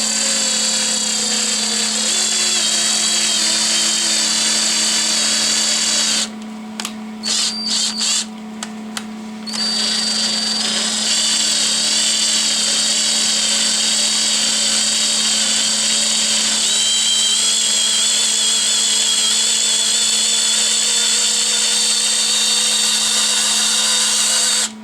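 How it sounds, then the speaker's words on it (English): Power drill tapping a threaded hole in a 3D printed cross shaft part, a loud steady motor whine running almost the whole time with a few brief stops and restarts near the middle, alone without talk. "we'll do it with the drill this time."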